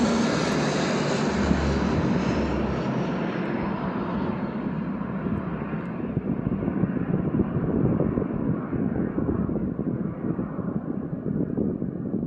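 Boeing 747 firefighting aircraft flying low over a house during a wildfire: a loud, close jet engine roar that slowly fades as it passes, with some wind buffeting on the microphone.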